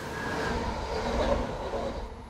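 Old steam-era train running on rails, a steady low rumble with rolling wheel noise and faint metallic clatter, continuous and fairly close throughout the short clip.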